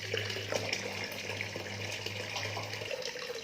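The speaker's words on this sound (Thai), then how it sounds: "ขั้นตอนนี้เราก็เปิดน้ำทิ้งได้เลยนะครับ" Water drains steadily from a laundry iron's boiler tank through an opened valve, a soft continuous gushing and trickling close by, with a low hum underneath.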